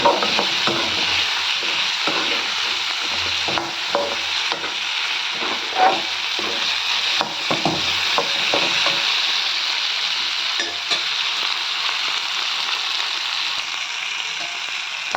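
Cashews sautéing in a pan for mutton kulambu, a steady close sizzle with intermittent stirring scrapes and clinks throughout, no talking.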